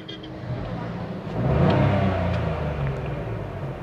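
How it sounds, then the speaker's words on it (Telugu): A 2022 Renault Kiger non-turbo three-cylinder engine revs up, its rumble swelling to a louder roar before easing back to a steadier drone. "ఒకసారి యాక్సిలేటర్ కూడా ఇస్తున్నా చూడండి"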